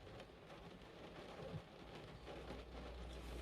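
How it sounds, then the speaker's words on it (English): Steady rain drums on the roof of a camper van parked overnight in an industrial estate, a dense, even hiss of drops close overhead with no voices. "Oh look, it's raining, which is fine. I actually like sleeping in the van in the rain."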